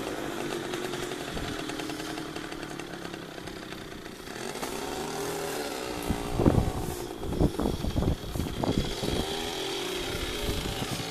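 Small two-stroke engine of a Riga 13 moped running after repair, a buzzing, uneven idle that turns into a series of sharp revving bursts toward the end, close and loud, with no talk.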